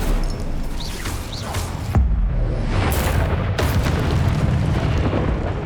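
Spell blasts in the Hogwarts Legacy video game, Confringo and Incendio: a deep booming explosion hits, followed by sustained fiery roaring and crackling rumble with further impacts layered on top, loud and dense.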